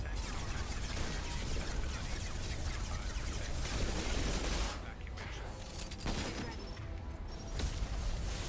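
Sustained gunfire in Mass Effect 2, a dense continuous fusillade of shots that thins to scattered shots near the end, mixed with talk.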